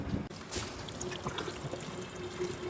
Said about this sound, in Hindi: अब इसको पानी से भरता हूँ, टूटी को ऑन करता हूँ जाके